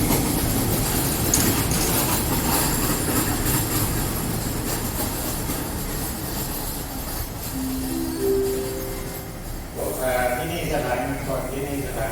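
A train rumbles and clatters past close by, wheels rattling steadily, with a brief horn-like tone and squealing near the end; a voice speaks briefly.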